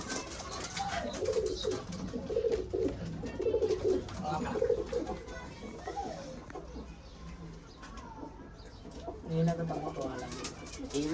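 Pigeons in a backyard loft coo in soft, repeated low calls, close by, layered with someone talking through most of the stretch.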